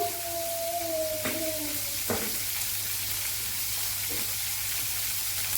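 Tomatoes sizzle and fry in a pan for a chutney, a steady, fairly loud hiss filling the whole stretch with a few faint clinks and scrapes on top.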